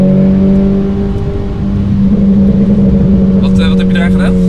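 A Renault Clio IV RS with an aftermarket exhaust drones loudly, then builds as the throttle opens, giving a throaty, raspy exhaust note throughout the clip.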